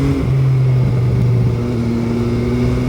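An MV Agusta Brutale 800 motorcycle with a counter-rotating three-cylinder engine pulls hard, its loud, close engine tone dropping at a gearshift and then climbing steadily under acceleration.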